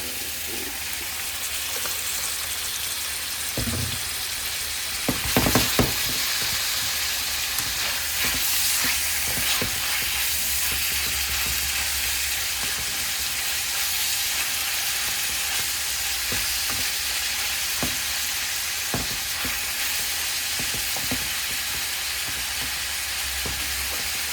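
Oil sizzles hard in a pan where mung beans are being cooked with pork, a steady dense hiss broken by scattered scrapes and clinks of stirring, close and loud with no talking.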